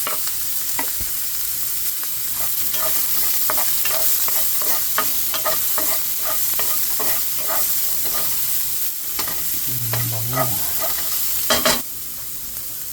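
Garlic sautés in a hot pan, meant for a chicken liver dish, with a continuous loud sizzle up close, broken by scraping and clattering from the stirring utensil near the end.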